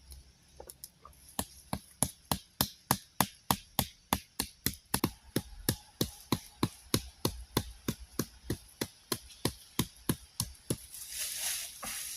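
A knife trims a wooden stick outdoors, producing a long series of about thirty sharp, close, evenly spaced cutting knocks at a brisk steady rhythm, with no talk.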